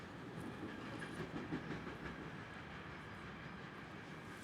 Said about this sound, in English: We have this on the podcast as well, the sound of the train.